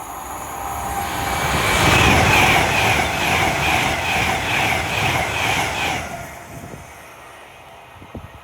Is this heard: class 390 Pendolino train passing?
yes